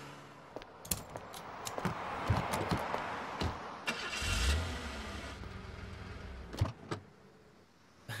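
A car engine cranks and catches after a stalled start, its low rumble rising near the middle of the clip amid clicks and handling noises, with no one talking.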